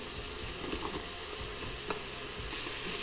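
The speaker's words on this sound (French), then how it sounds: "Dans une cocotte bien chaude, le beurre. On y rajoute les lardons, les oignons." Bacon lardons and onions sizzle in butter in a hot cocotte, making a dense, steady frying hiss with faint crackles and a few stirring knocks, close and constant throughout.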